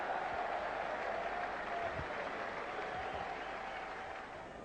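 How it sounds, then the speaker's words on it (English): England fans cheering at a cricket test in the Cricket 98 video game, a steady distant crowd roar with applause that stays even throughout, fading a little at the end, without clear talk. "there are lots of fans here from England cheering their side on"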